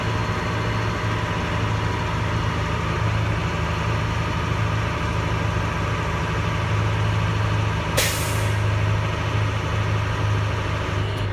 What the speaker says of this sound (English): First thing I got to do is build up maximum air pressure, fill up my tanks.